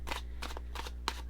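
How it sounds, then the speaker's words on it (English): A deck of tarot cards is shuffled by hand in four quick riffling bursts, close and crisp over a low steady hum, with no talking. "I'm going to give these some extra shuffles just for Virgo energy"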